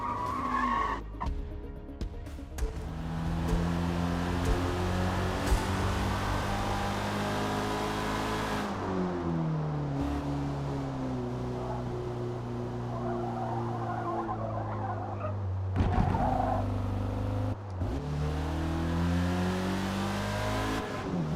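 A convertible race car in Forza Motorsport, its engine revving and shifting up through the gears as it runs a chicane, with tire squeal and skidding, loud and close for about twenty seconds with brief lifts between pulls.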